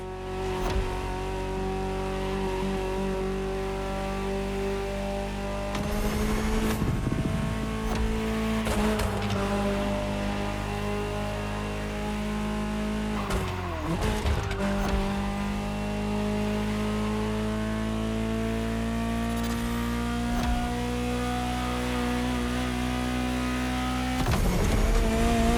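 A high-revving Ferrari supercar engine in a racing video game drones steadily, climbing and dropping in pitch as gears shift, with brief bursts of louder acceleration and no talking.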